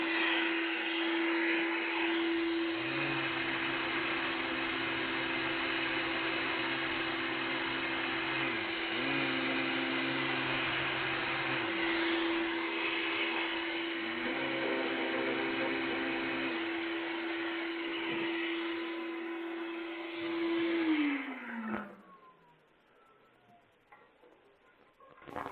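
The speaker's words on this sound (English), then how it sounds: "anytime you turn on a power tool, your vacuum automatically turns on" Workshop dust vacuum droning steadily alongside a power tool that cuts in and out in repeated bursts, then both wind down and stop near the end.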